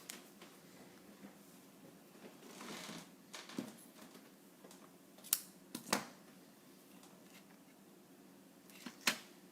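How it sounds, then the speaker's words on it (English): Scissors snip through red ribbon at a craft table, a few sharp, quiet cuts and clicks spread out over soft background rustling. "we'll just cut the red ribbon the same size."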